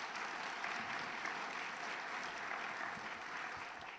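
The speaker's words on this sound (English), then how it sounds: "Let's give them another round of applause." Audience applause fills a hall at a teacher of the year awards ceremony, a steady, dense wash of clapping that holds for several seconds at moderate distance and eases slightly toward the end, with no talk over it.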